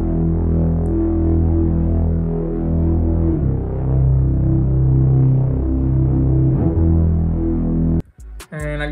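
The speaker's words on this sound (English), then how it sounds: "I added two synth bass, the first one on the first half of the loop, and it sounds like this." Synth bass from Serum rendered to audio in an experimental beat loop, a deep, thick throbbing tone sustaining continuously with shifts in pitch, ending with a brief abrupt cut and glitchy tail.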